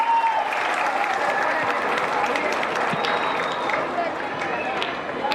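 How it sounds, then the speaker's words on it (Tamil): An audience applauds loudly for comedian Madurai Muthu at a Tamil comedy stage show, with steady dense clapping throughout and some crowd noise mixed in. "ஒரு பலத்த கைத்தட்டல் கொடுத்துடலாம் மதுரை முத்தண்ணனுக்கு"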